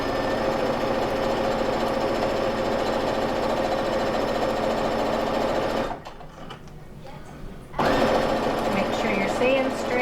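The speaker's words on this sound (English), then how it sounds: "So it's just a nice straight sew." Sewing machine running steadily as it stitches a straight quarter-inch seam across a quilt, a loud continuous mechanical whir that drops out for about two seconds near the middle, then resumes.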